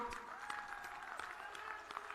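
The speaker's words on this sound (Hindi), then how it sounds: "कैप्टन साहब के लिए एक बार ताली बजाइए सभी लोग।" A rally crowd in Patiala, Punjab claps for Captain, a fairly faint, steady wash of many hands with a few sharper claps standing out, heard at a distance over a soft hum.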